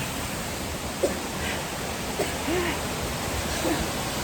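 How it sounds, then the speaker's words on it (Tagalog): A waterfall in summer, heard as a steady, even rush of broadband water noise that fills the whole stretch, with a few faint, brief sounds over it. "Tingnan mo naman summer na pero ang waterfalls niya oh."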